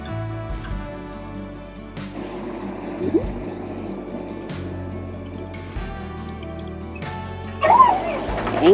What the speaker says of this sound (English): Anxious puppy.